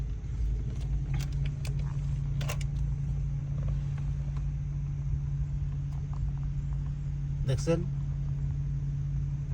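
A car drives along a street, its steady low engine and road rumble running throughout from inside the vehicle, with a few light clicks and a person talking over it.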